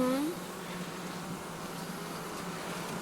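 Honey bees hum at a Lemko apiary hive in Zdynia, a steady, close buzzing drone that runs throughout under a faint background hiss, with a brief whistling tone at the very start.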